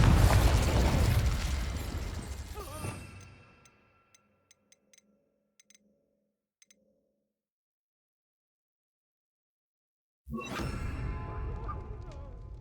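A Confringo spell explosion in Hogwarts Legacy erupts loudly and fades out over a few seconds, followed by faint ticks and near silence before another loud burst of game action returns.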